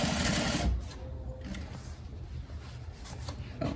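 A sewing machine runs a thin stitch along the elastic casing of a skirt, giving a quiet, steady mechanical whirr with a faint rubbing texture and no talk.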